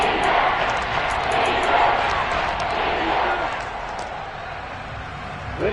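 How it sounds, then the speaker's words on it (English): A football stadium crowd roars steadily and loudly on a third-and-goal play, with the defenders urging the fans on. The dense wash of crowd noise holds near-constant throughout and swells briefly at the end. "That just means this crowd's going to get even louder."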